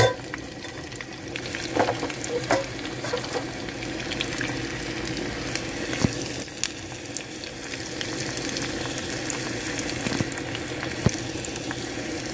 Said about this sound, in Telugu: పోపులు వేగినాయి.